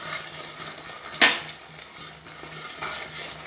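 Spices being stirred and fried for paneer butter masala, with one sharp clink of a spoon against the pan and a low, steady sizzle underneath.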